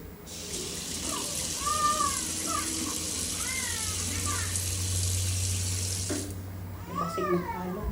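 Water runs steadily from a condo tap, a loud hissing flow that cuts off near the end, while a cat meows several times nearby and faint talk sits underneath.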